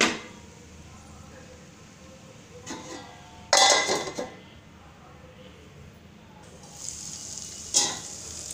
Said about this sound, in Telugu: ఇలా వెల్లుల్లిపాయ చితకొట్టి వేసిన తర్వాత ఒక 2 మినిట్స్ మగ్గనిద్దాం.